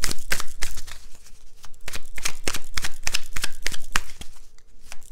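Tarot cards being shuffled by hand, a quick run of crisp riffling slaps and flutters that is loud and near, with no voice.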